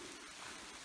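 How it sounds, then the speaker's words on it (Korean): Soft, steady patter of rainfall in Saryeoni Forest, Jeju, a continuous hiss of drops on leaves and ground, faint and even, with no voices. "비가 와요."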